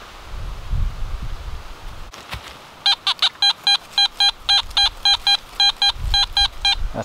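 A metal detector sweeps a former swimming hole over several coins, sounding a rapid series of sharp, evenly spaced high beeps, about a dozen in a row, close and loud above faint outdoor wind.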